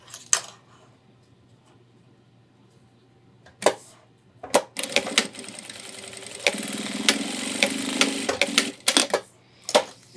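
A sewing machine stitches down a single fold on the hip belt of a homemade 30-liter ultralight backpack, with short bursts and then a longer run of close, rapid mechanical whirring, separated by clicks and pauses.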